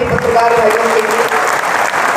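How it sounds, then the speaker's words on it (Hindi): A crowd at a Bhagavat Katha gathering in Nagda claps loudly for the journalists, with dense sustained applause close up and some voices mixed in. "एक बार जोरदार तालियां हमारे सभी पत्रकार भाइयों के लिए।"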